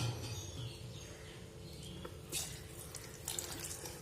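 Water pours steadily into a cooking pot of rice for chicken biryani, a continuous splashing stream with a few brighter gushes, no talking.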